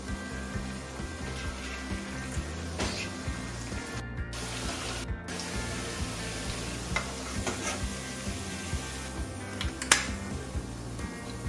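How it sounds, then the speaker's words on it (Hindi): Steady sizzling and bubbling of vegetable pakoras frying in hot oil over a medium flame, with occasional clinks and stirring, continuous and close with no speech. "मीडियम फ्लेम के ऊपर पकौड़ों को पकाएं"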